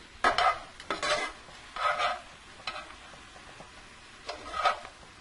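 Cooked spinach being scooped from a pan into a colander, heard as several separate scraping, clattering scoops with brief pauses between them, close and moderately loud, with no talking.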